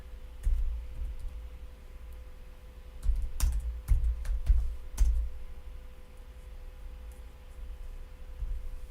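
Keys on a computer keyboard are tapped in short, uneven bursts of soft clicks, fairly faint over a steady low hum, with no one speaking.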